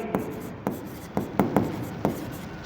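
A pen writes on paper while an accounting problem is worked through. Quick scratchy strokes and taps come in an uneven rhythm, close and clear, with no talking.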